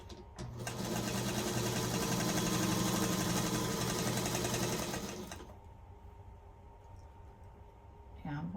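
Sewing machine stitching quilt pieces along a seam guide, a close rapid whirring chatter for about five seconds that then stops, leaving quiet room sound with a faint click at the end.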